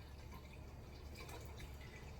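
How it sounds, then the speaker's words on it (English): Liquid being poured while brewing a honey beer braggot, a soft, steady trickling and dripping heard alone for a couple of seconds. "Pour in."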